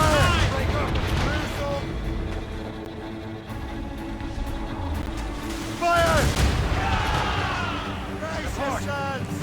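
Ship cannons firing in the Assassin's Creed Rogue naval combat game, heavy booms and rumbling blasts recurring throughout with a big burst near the middle, layered under game music and character speech.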